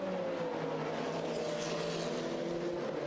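A GT race car idles and rolls through the pit lane at Silverstone during a 2005 FIA GT Championship round, a steady engine drone with a faint tonal whine held at moderate distance for several seconds.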